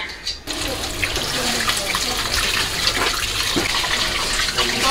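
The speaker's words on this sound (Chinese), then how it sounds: "咱们再用清水啊给它清洗一下。" Running clean water rinses blanched beef ribs, a steady gushing, splashing stream from a tap with clatters of the ribs being handled, continuous and close throughout.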